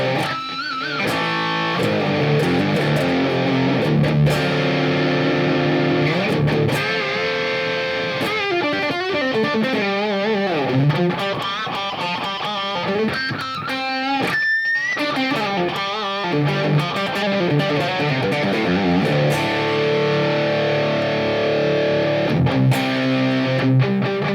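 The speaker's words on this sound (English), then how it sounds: "full out, molten in your face distortion" Electric guitar played through a heavy distortion pedal, sustained chords and riffs with a thick fuzzy tone, loud and upfront with no talking.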